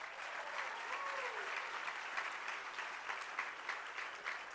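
A full round of applause from a union assembly crowd honoring the UTLA Board of Directors, dense and continuous clapping filling the room, fairly distant and even in level.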